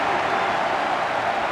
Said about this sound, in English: Gibbons getting the crowd involved.